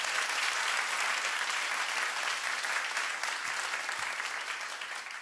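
A concert audience at a live radio session claps loudly and continuously for the guitarist of a rock band, a dense bright wash of applause that tapers off a little at the end.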